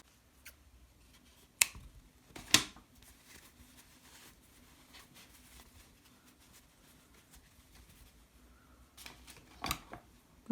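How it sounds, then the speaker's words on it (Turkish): Scissors snip excess yarn from an amigurumi giraffe toy in a few sharp, close clicks spread over a quiet background, with no talk. "Ve fazlalık ipi kesiyorum."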